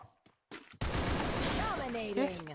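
Rapid bursts of gunfire in the battle-royale game Free Fire, a sharp crack followed by a sustained rattling volley with ringing tones, preceded by brief voices and game sounds.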